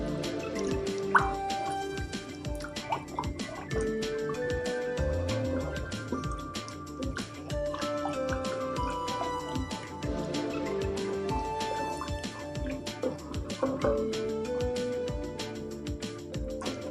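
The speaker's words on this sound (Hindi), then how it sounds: "थोड़ा थोड़ा करके दूध डालेंगे इसके अंदर।" Milk added little by little to a white sauce for cheesy macaroni, heard as a continuous run of close liquid drips and small plops, steady and moderately loud throughout with no voices.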